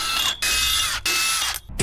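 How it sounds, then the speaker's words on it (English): A ratcheting torque wrench tightening lug nuts on a dump trailer wheel, giving loud, close, sustained mechanical whirring in two long pulls broken by brief pauses and ending in a short click. "Torquing lug nuts."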